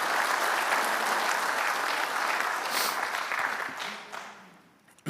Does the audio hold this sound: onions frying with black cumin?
no